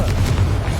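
Confringo fire blast spell exploding in Hogwarts Legacy, a short loud rumbling boom with sustained low roar, dense and close.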